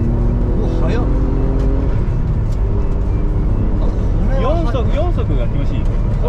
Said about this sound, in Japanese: これだって V6 の3リッターのツインターボですよね